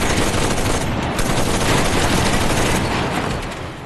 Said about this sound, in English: Although it sounds like an MG34.